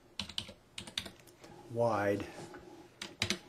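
Dimensions are typed on a computer keyboard in short bursts of crisp clicks, separated by pauses, with someone talking between the keystrokes.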